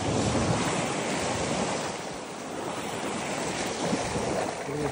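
Sea waves break and wash onto the shore at sunset in a continuous roaring surf. Wind buffets the microphone over a dense, steady wash with no voices.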